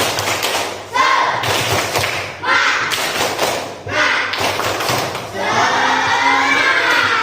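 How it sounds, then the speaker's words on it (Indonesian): Third-grade class repeating the 'tepuk semangat' spirit clap, strong rhythmic clap-and-thump bursts in quick groups with children chanting and shouting over them, loud and near, ending in a rising cheer. "Sekali lagi, tepuk semangat"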